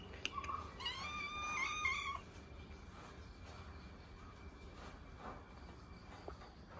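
A cat waiting to be fed gives one drawn-out, wavering meow near the start, then stays silent while a quiet background hum and a steady high whine continue.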